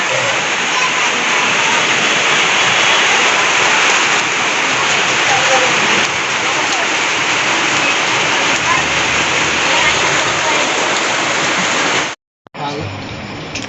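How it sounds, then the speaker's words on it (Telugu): Steady heavy rain pours down in a dense, continuous hiss for several seconds, then cuts off briefly before resuming. "వర్షం స్టార్ట్ అయింది"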